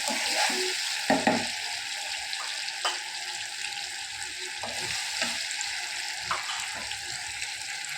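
Food sautés in hot oil in a home kitchen, a constant close sizzle with occasional scraping and stirring knocks from the pan; nobody speaks.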